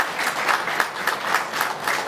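An audience applauds steadily at a launch event in France, dense clapping sustained and even throughout at moderate loudness, with no voices over it.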